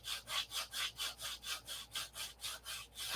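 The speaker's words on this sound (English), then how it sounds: "It's nice change of pace to watch someone else sand" Rhythmic back-and-forth strokes of sandpaper on the wooden flaps of a radio-controlled P-47 model plane, about four even strokes per second, close and steady with no talking.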